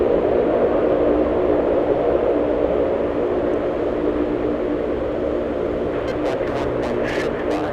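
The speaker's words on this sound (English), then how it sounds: "Linden Air Cargo making an appearance here at LAX." A Lynden Air Cargo plane at LAX airport, a steady broadband engine roar that holds constant throughout, moderately loud and without speech, with a few faint ticking sounds near the end.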